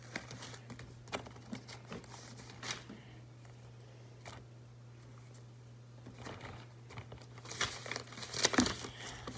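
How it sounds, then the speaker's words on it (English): Planner stickers being peeled from a sheet and pressed onto a page, soft crinkling paper rustles and light taps coming in scattered bursts, close and quiet over a low steady hum, no talking. "Let's put a to-do sticker on there. Let's put a get it done sticker."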